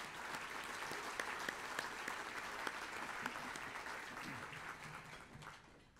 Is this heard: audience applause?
yes